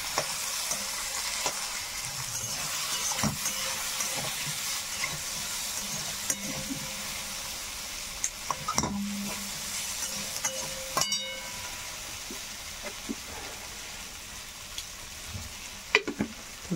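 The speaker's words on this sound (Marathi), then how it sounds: "हे बघा हे बटाटे आणि मिरच्या भाजून घेतलेल्या" Potatoes and green chilies fry in a pan, giving a steady, even sizzle with occasional scrapes and taps of a spoon stirring, close by and moderately quiet.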